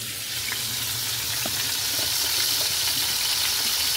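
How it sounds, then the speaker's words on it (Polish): Homemade beef patties topped with cheese sizzle in a frying pan over lowered heat, making a continuous close hiss with a few small pops and no talk. "Nasze kotleciory ładnie się smażą."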